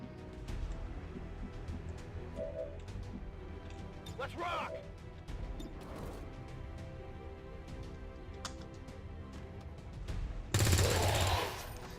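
In XCOM 2, a wrath cannon fires, a single loud heavy blast with a dense roar near the end, following a long stretch of someone talking over quiet game ambience.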